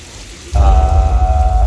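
Sprinkler-made rain effect on a Universal Studios tour set, water sprayed up into the air: after a brief quiet start a sudden steady loud hiss of falling water begins and continues, with a faint tonal hum running beneath it.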